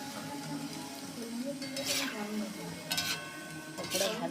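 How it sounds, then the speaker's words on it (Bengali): Cabbage, onion and gram-flour pakoras fry in hot oil with a steady, soft bubbling sizzle, joined by occasional bright scraping stir bursts from a utensil in the pan. "পকোড়া ভাজা চলছে।"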